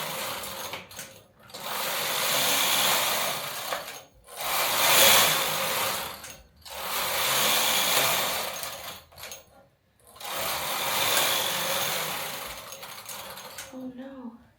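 Vintage knitting machine knitting a mesh cardigan: four long, raspy carriage sweeps back and forth across the needle bed, each several seconds long and separated by short pauses, close and mechanical with a clacking finish.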